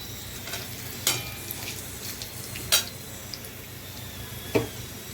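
Oil heats in a pan with a soft continuous sizzle, broken by three sharp metallic clinks from a utensil against the pan, close and fairly quiet.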